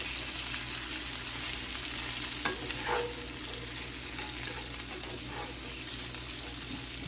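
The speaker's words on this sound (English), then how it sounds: "when you start smelling these peppers sauteed with this sauce" Peppers sautéing in sauce, giving a dense, steady sizzle and bubbling with a few soft stirring scrapes, close and continuous with no talk.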